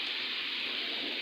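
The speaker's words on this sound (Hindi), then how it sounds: "ये बड़ी तेज़ बारिश हो रही है" Heavy rain pouring down in a steady, dense wash of noise that stays loud and even throughout, with no voices.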